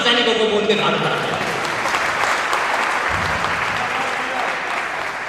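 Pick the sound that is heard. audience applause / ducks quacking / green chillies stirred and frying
audience applause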